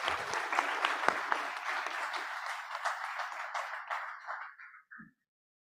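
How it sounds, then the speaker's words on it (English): Audience at the CII Partnership Summit 2023 applauds a minister after his address, a full burst of clapping that gradually thins and fades out near the end. "can all of you join me in applauding the Honorable Minister for his wonderful address"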